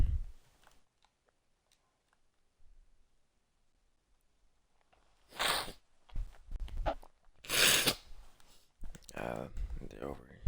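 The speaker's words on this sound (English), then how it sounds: "I gotta sneeze." A sneeze bursts out sharply and close during a relaxed solo Minecraft hardcore session, followed by a second breathy burst, with quiet room noise and brief sounds around it.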